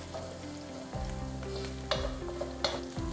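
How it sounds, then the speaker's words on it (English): Chilies and garlic sizzle steadily in a hot pan while being stirred, with a spatula scraping and clattering against the pan several times over the continuous frying for a kale and chickpea curry. "Give it a couple minutes, stirring all the time."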